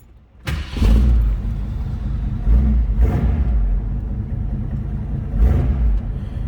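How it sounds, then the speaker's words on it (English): A 1969 Ford Mustang Mach 1 V8 cranks and fires up with a loud, deep exhaust rumble, then settles into a heavy idle broken by two short throttle blips. "This car's got a nice sound to it, deep exhaust note"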